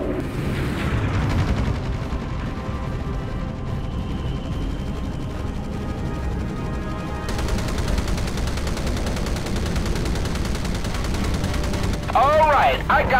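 Sustained automatic gunfire and explosions in a Pacific air-naval battle from Battlestations Pacific, a loud continuous rattling fusillade over a low roar, with brief game voice chatter near the end.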